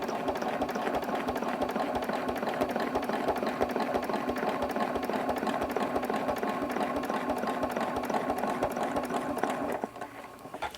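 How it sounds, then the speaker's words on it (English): A domestic sewing machine stitching a quilt against a quilting ruler, running at a steady fast whir with a dense mechanical rattle for about ten seconds close up, then stopping abruptly into near quiet. "I am just practicing stitching with my ruler"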